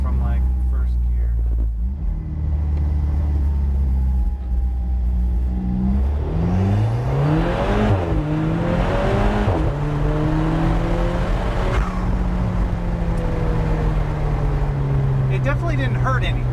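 An Alfa Romeo 4C with a DCT gearbox pulls from first gear, the engine droning loudly as revs climb and fall through quick shifts, heard from inside the car with people talking over it.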